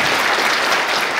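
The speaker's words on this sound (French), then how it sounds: "je vous invite à applaudir très fortement Monsieur le ministre pour sa présence" An audience at a chamber of commerce congress in Mali applauds the minister, a short burst of loud, dense clapping from a full crowd.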